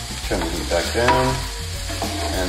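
Onion, garlic and ginger cook in a pan for a citrus beef stir fry, giving a close, continuous sizzle with a few stirring scrapes over a short stretch and no voices.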